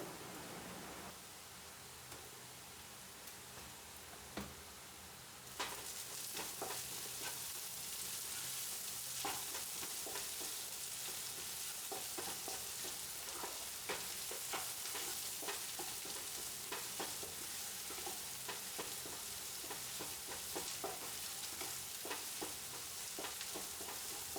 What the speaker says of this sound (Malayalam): സവാള 1 മിനിറ്റ് ഒന്ന് അടച്ചു വെച്ച് അതൊന്ന് വാടിയതിന് ശേഷം ഇതിലേക്ക് ഉപ്പ് ചേർത്ത് കൊടുക്കുന്നുണ്ട്.